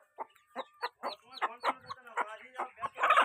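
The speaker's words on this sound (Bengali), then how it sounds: "এই যে মা দেখো মুরগি বাচ্চাগুলো সব বের করেছে" Newly hatched chicken chicks cheep in a run of short, high, repeated peeps, close and fairly loud, with a hen's clucking mixed in and a denser burst of calls at the end.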